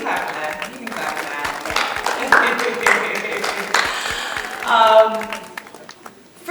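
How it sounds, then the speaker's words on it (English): A live audience at a talk on emotional eating and weight loss claps in scattered bursts around the speaker's voice, the applause swelling briefly near the end and staying moderately loud. "Yeah, you can clap for that."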